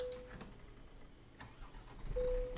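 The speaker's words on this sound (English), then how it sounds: "Why is it restarting the engine?" Truck engine restarting in Euro Truck Simulator 2 video game, a low rumbling engine with a few soft clicks and a cranking surge building to a steady drone at the end.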